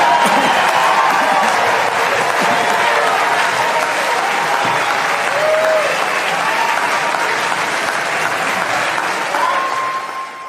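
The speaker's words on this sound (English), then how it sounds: "That very diverse crowd at CPAC stood up to give a standing ovation to a fascist." A large, adoring CPAC conference crowd in Texas gives Viktor Orban a standing ovation, with loud, dense sustained applause and scattered cheers filling the room steadily, then tapering slightly at the end.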